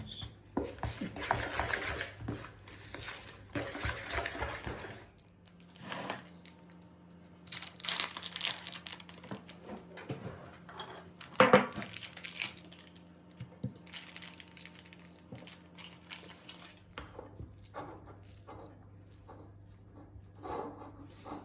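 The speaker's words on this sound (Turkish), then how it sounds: "Şöyle peynirimi biraz ufalayayım." Cheese crumbled by hand into dough for dill pastries gives soft crinkling, crumbly rustles in irregular bursts, close and fairly quiet, with gaps of near silence between handfuls.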